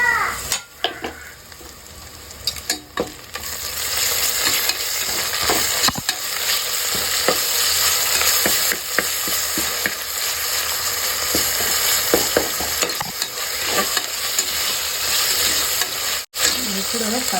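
Ginger and garlic frying with onion masala in a pan, a loud continuous sizzle with frequent stirring scrapes and occasional utensil knocks throughout.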